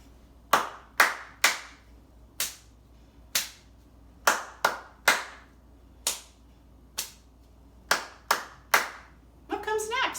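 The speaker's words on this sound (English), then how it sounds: "It was 3 claps, 2 pats, 3 claps, 2 pats." Hands clap and pat on a body in a steady repeating pattern of three claps then two pats, the sharp hits close and clear against a quiet room, with a voice briefly joining at the very end.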